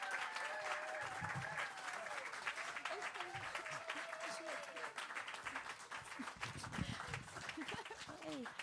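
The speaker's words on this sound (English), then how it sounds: "Let's give Ciara another round of applause, because she'll hate it." Sustained audience applause at a live show, dense and steady clapping from a crowd with scattered voices and faint tonal sounds mixed in, lasting throughout.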